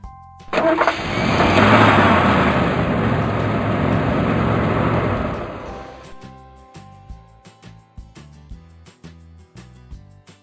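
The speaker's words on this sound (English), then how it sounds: "Truck." A truck engine cranks and starts up with a loud rumbling roar that holds for several seconds before cutting off, followed by light musical notes with no speech.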